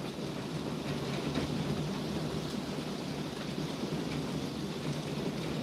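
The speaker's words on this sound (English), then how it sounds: "I got a storm brewing outside" Rain falls steadily outside during a thunderstorm, a dense even hiss heard from indoors with a low rumble underneath and no talking.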